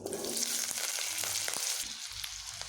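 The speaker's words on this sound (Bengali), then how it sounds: "এবার আমি এখানে আলুগুলোকে ভেজে নেব" Potatoes fry in a pan with a continuous bright sizzle and occasional soft stirring scrapes, close and moderately loud, with no one speaking.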